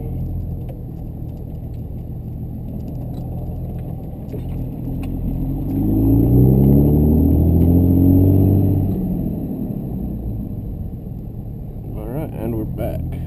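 A twin-turbo Cummins diesel pickup drives along with a steady low rumble that swells louder midway, then eases back, engine drone filling the cab with faint cabin noise.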